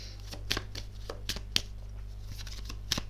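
Playing cards being shuffled and dropping during a tarot reading, with sharp papery riffles and slaps at irregular moments over a steady low hum, close to the microphone and with no talking.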